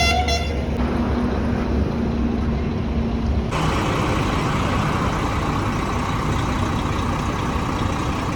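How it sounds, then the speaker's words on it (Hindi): A Volvo B11R bus horn honks briefly at the start, then a loud, rumbling engine and road noise take over and continue steadily. "तो जी बस ने हॉर्न दे दिया है"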